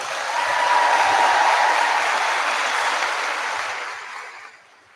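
Scholarship-ceremony audience applause swells quickly into a dense, even wash of clapping, holds steady, then fades away over the final second.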